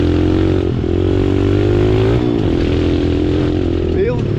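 A mini motorcycle's small engine drones loudly and steadily on a trail ride with friends, close up, with slight shifts in pitch as the rider eases and adds throttle.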